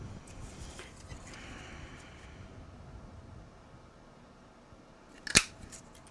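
A handheld paper punch makes a single sharp crunching snap as it cuts a small 1/4 inch hole through paper at a scrapbooking table, close and fairly loud after quiet room tone.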